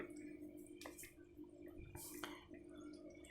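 Water runs and trickles into the compartment of a Bluepet BL 774W multi-section bio top filter on an aquarium, a faint steady flow with a few louder splashes and drips.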